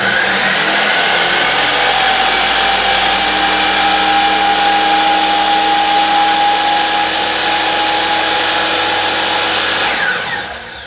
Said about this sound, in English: Let's take a look at the noise levels on the DeWalt.